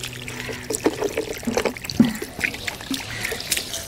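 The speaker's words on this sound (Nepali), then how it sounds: "अब यसलाई उल्टाइदिन्छु म यसरी यो चाहिँ सबै सकिसकेको पानी हो क्या एसिडको" Used acid water is poured out of an upturned container, splashing and dribbling in irregular bursts of trickles and drips at close range against a quiet background.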